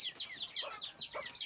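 Desi hens clucking softly while being fed maize meal at home, a run of quick rising chirpy clucks repeating in short bursts, fairly faint and with no voices.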